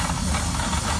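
A Foster single-cylinder agricultural steam engine from 1917 gives off a loud, steady hiss of escaping steam, broad and unbroken for the whole short moment, with no talk.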